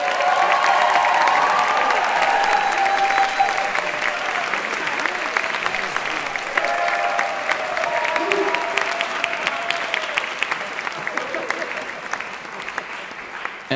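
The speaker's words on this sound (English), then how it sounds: "they all deserve a round of applause" Sustained audience applause at an academic honors and awards ceremony, a steady loud wash of many hands clapping throughout, with faint voices and a few tonal sounds under it.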